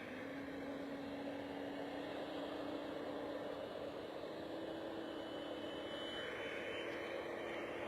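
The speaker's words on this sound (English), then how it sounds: "Hear those massive engines." Aircraft jet engines at Bristol Airport roar as a steady, broad, distant wash with a constant tonal whine, continuous throughout and no voices.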